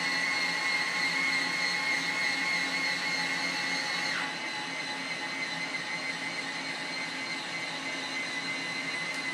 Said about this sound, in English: We're going to do a true north, just to let you guys hear the motor operation.